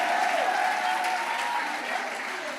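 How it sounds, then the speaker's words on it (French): Steady applause from a church congregation, dense and continuous clapping filling the space at a moderate, even level throughout. "Keep on clapping."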